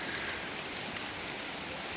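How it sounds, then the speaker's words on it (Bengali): Steady afternoon rain pattering on surfaces around a rural family home, a soft even hiss with no voices. "আজকে দুপুরের পর থেকে বৃষ্টি শুরু হয়েছে, হাই রে বৃষ্টি।"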